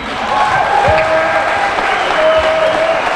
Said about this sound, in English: Give a rounding applause.